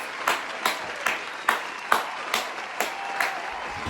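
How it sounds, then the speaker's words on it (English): Steady applause from a talk show studio audience, with rhythmic bursts of clapping roughly every half second throughout. "Round of applause."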